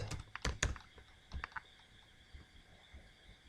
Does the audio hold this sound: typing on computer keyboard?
yes